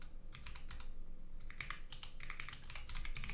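A git command being typed on a computer keyboard, with quick, close key clicks coming in short irregular runs over a steady low background hum.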